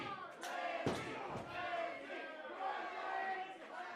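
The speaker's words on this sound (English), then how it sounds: "This crowd coming out a little bit alive for Blizzy." Capacity crowd at an indoor wrestling show in a shop venue cheering and shouting during a match, a sustained roar of voices with a few sharp slams and thuds near the start.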